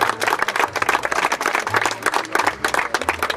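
A crowd at a memorial event in Jesolo breaks into sustained, dense applause, many hands clapping steadily and fairly loudly throughout with no pauses.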